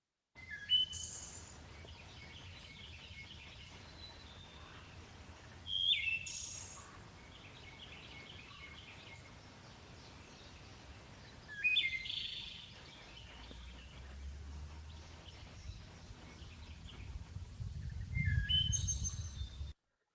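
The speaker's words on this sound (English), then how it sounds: "Here it is," A wood thrush sings in a bottomland forest, four separate flute-like phrases spaced several seconds apart, fairly faint and distant over a quiet background hum.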